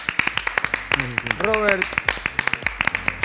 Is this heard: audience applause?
yes